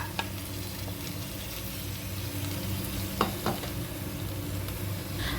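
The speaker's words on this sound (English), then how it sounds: "Then add the sliced onions, chopped mint" Sliced onions, chopped mint and coriander leaves roast in a pan, a quiet even sizzle with a couple of sharp spatula clicks and stirring noises partway through, no voices.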